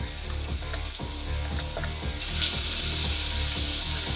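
Two cloves of minced garlic sizzle in hot bacon fat, a steady close frying hiss that grows brighter and louder partway through, with a few soft stirring knocks and no talk.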